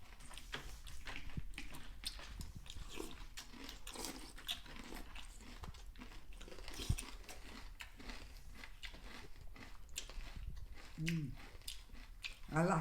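Nature's Path Heritage Flakes cereal is crunched and chewed close to the mic in steady, irregular bites, with a brief voice near the end.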